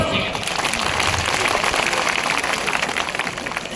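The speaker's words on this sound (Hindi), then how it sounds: "अरे तालियां बजाओ।" An audience of party polling-booth workers at a political rally in Ashoknagar claps, producing dense, continuous applause that fills the space for several seconds before tapering slightly.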